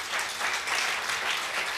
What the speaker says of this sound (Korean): 우리 주님께 영광의 박수 올려주세요.